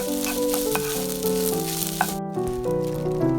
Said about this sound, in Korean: 후추를 넣고 잘 볶아줍니다.